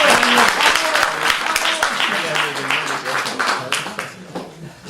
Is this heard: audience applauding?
yes